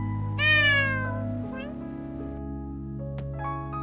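A hungry cat lets out a clear, rising meow, then a second fainter one, close by over a steady low hum.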